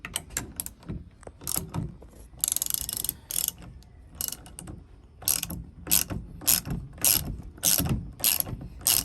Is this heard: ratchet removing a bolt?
yes